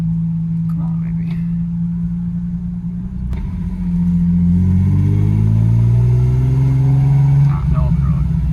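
Lexus SC300 fitted with a new exhaust and headers, its engine droning low and loud, then rising through a sustained rev from about the midpoint, with a faint voice early on.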